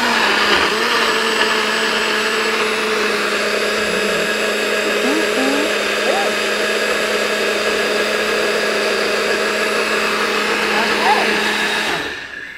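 A kitchen blender whirs steadily while blending an orange smoothie, a loud continuous motor drone with a slight pitch wobble that runs the whole time before cutting off at the end, with a few voices faintly audible beneath it.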